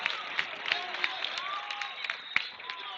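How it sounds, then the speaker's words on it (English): Big home crowd at a high school wrestling match between Garnet Valley and Upper Darby, a steady murmur of cheering and clapping with a few sharp claps, plus whistle-like tones rising over the din. "And he gets the crowd into it. This big home crowd."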